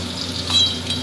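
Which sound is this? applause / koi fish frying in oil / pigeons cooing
koi fish frying in oil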